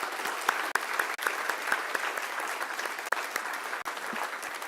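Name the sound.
audience applause for hospital Child Life team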